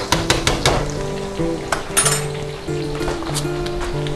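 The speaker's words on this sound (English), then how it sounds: "I'm going to go ahead and just keep on stirring this around once in a while" Stirring lentil dish cooking in a pot, with clinks of a utensil against the pot and a low sizzle underneath, plus a steady low hum throughout.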